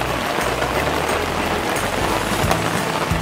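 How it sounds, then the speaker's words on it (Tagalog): Heavy rain pours steadily, a dense constant hiss of drops striking surfaces nearby, with no voices. "biglang umulan"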